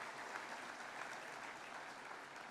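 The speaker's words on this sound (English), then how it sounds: "This time the whole house should applaud." Convocation audience in a large hall applauding steadily, a dense, even wash of many hands clapping with no talk over it, sustained at moderate loudness throughout.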